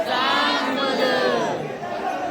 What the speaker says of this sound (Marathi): मागे गर्दी केवढे